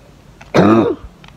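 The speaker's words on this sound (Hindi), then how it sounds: "आप देख रहे कितनी खांसी है मुझे।" A single harsh cough, close and loud, breaks briefly through a quiet room.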